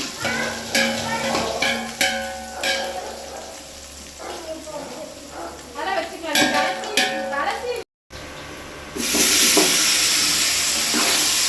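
Tomatoes and curry leaves sautéing in a pan, with close scraping and stirring clatter over a steady sizzle, then a louder burst of frying hiss near the end.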